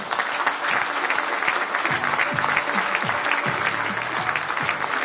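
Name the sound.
audience applause for Mr. Ki Hak Sung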